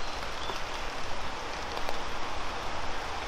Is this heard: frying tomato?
no